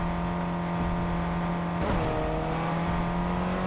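A Fortnite car engine drones steadily, then its pitch drops abruptly at an upshift and climbs again, close and continuous with no talk.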